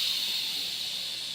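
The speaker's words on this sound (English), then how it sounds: "You want to wait for all that steam to escape before we unlock and open the lid" Steam hisses steadily from the quick release valve of an Instant Pot after cooking cilantro lime rice, a loud continuous broadband rush that holds constant throughout with no voices.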